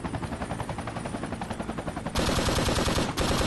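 Rapid machine gun fire from a boat door gun in a Vietnam-era combat video game, dense bursts of shots that turn louder and heavier partway through, with no talking.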